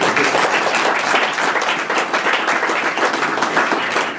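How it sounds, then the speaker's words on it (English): Loud, close audience applause at a county commissioners meeting for the county's award-winning video, dense steady clapping filling the room for a few seconds. "That does deserve a round of applause."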